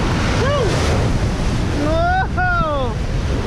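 Riders on the Master Blaster uphill water coaster at Schlitterbahn New Braunfels, Texas, with loud, steady rushing water and wind roar filling the ride, while brief whoops and voices rise over the surge.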